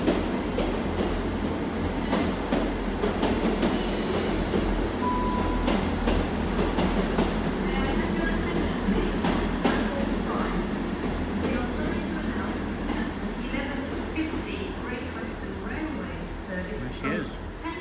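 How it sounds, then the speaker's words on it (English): A double Great Western Railway Class 150 diesel unit pulls into Exeter St David's station, a steady rumbling engine with wheel squeal and rail clatter that holds loud throughout, while a voice talks over it. "coming in now will be a Great Western Railway service to Exmouth for another double 150"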